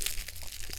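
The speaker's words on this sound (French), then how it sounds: "papier bulle" Bubble wrap packaging around a cross-stitch needle minder crinkles close up in a brief, crackly rustle of small pops and plastic creases.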